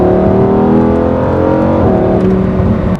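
A Lamborghini Huracan Performante's V10 pulls hard under acceleration, its loud, close engine note climbing steadily before a brief drop and rising again, with no talking.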